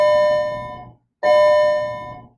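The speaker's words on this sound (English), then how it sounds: "That's the bell for a different class." A school bell for a class rings in two loud, sustained electric tones of about a second each, separated by a short gap, heard alone and close.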